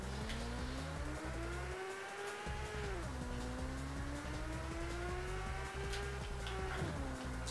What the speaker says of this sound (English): unnecessary drift there, trying to showboat in a shit car